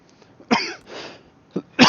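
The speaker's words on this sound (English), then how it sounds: "Sorry, for coughing." A person coughs twice in short, sharp bursts near the microphone, with a brief breathy throat sound between them, and no speech.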